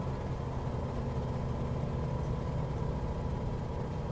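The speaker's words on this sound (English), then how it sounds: "Also going to reduce the engine because it is loud as fuck." A light aircraft engine in Microsoft Flight Simulator drones as a steady, even hum flying low under clouds, fairly quiet and constant throughout, with no voices.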